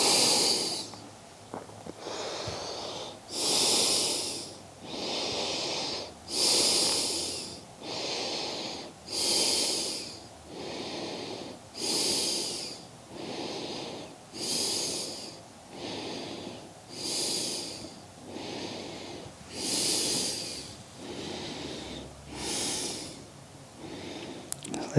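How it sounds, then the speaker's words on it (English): Slow, steady nasal breathing during a yoga session, with soft inhales and exhales alternating in an even rhythm of roughly one breath every three seconds. The breaths are close and clear, and no one speaks. "Breathing in and out of the nose."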